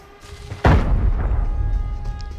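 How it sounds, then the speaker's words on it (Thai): A sudden loud blast of an explosion in the video game Arena Breakout, followed by a long rumbling roar that fades slowly as distant echoes continue. "เสียงระเบิดเยอะจัดอะฝั่งโน้นอะ"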